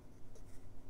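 A 1947 Parker VS fountain pen with a 14 karat gold 1.1 stub nib writes on Clairefontaine 90 gsm paper, giving a faint, close scratchy stroke over quiet background hiss.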